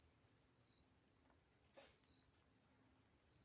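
Farmed crickets keep up a steady, unbroken high-pitched chirring drone, quiet and constant with no pauses.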